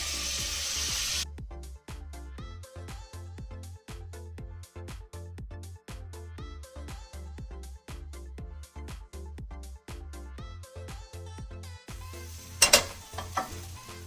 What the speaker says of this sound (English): We're then going to add the pasta into the sauce.